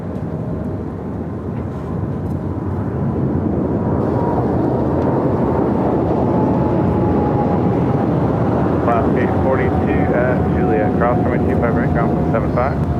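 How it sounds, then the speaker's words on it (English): A Japan Airlines Boeing 777-300ER heavy jet takes off from runway 25 Right on the south side of LAX. Its deep, loud, continuous jet roar swells in the first seconds and then holds steady, with a thin high whine running across it. "Japan Airlines Flight 15, the 777-300ER. Next takeoff here on the south side of LAX"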